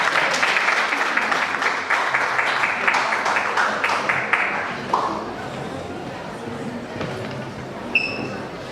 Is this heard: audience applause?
yes